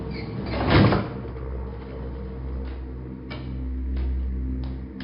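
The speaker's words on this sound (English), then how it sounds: "The elevator doors opened and we stepped out." Elevator doors sliding open in a radio play, a soft rolling whoosh near the start followed by a low steady hum and a few faint ticking clicks.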